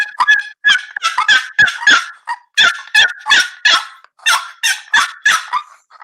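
Dogs bark repeatedly in quick, loud bursts, mixed with shrill yelping turkey calls and no talking.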